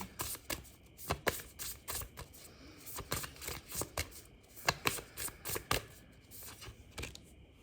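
Tarot cards are shuffled and drawn from a deck in a quick, close series of soft riffling slaps and flicks, with irregular bursts and brief pauses between them.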